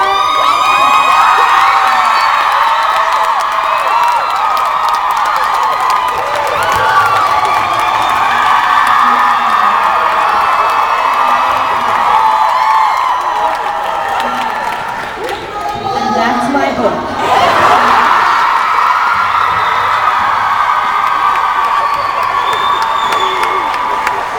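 A large panel audience cheers, whoops and shouts in a loud, continuous roar during a shout-off contest. It dips briefly around the middle and then swells again.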